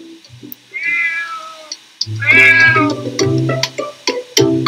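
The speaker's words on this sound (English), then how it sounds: "So here he is, one of the most famous cats in the country." The Downing Street cat at Number 10 meows several times, drawn-out and wavering calls with a few short mews in between, close and loud, with no one talking.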